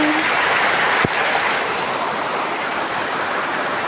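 Heavy rain pours down outside a store, a dense, continuous hiss with a single sharp knock partway through.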